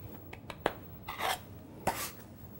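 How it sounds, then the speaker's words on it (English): Irish soda bread dough kneaded by hand on a floured surface, a few soft, close rubbing and pressing strokes with light taps in between, quiet and irregular. "And we're going to start kneading."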